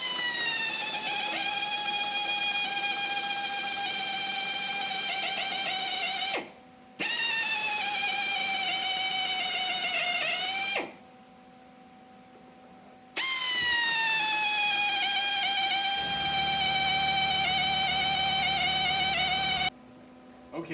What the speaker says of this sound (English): So now I'm going to go try and step drill